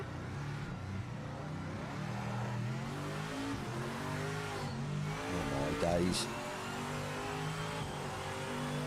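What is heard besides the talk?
race car engine revving in Project Motor Racing video game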